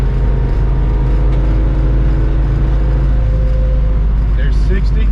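A 1961 Ford Falcon in need of tuning cruises at about 50 mph on the highway, its engine droning in a steady low hum with road and wind noise throughout.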